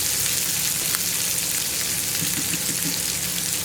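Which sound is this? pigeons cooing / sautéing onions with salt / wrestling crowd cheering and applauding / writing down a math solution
sautéing onions with salt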